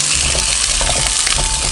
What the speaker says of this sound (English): we're not cooking them, I'm frying them up